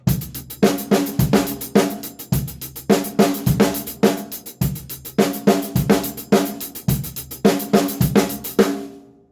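A close, loud drum kit loops a steady rock-style groove with an added snare hit placed on the E of beat three. Crisp cymbals ride over punchy kick and snare strokes throughout, no voices.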